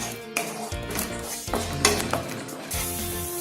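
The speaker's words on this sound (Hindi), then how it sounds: "इसको भी 1 मिनट तक हम ऐसे फ्राई कर लेंगे।" Matar paneer masala fries in a pan over a medium flame, a continuous close sizzle broken by spoon scrapes and clinks against the metal as it is stirred.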